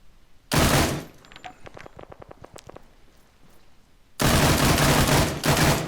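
PKP Pecheneg machine gun firing in ARMA 3, two long loud sustained bursts of rapid automatic fire separated by a lull of scattered distant shots.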